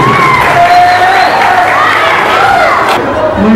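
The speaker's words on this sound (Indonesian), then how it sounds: "Oke, tepuk tangan buat itu." Students at a junior high school showcase in Garut, West Java, applaud and cheer together in one continuous, loud burst of clapping and excited voices that fills the whole clip.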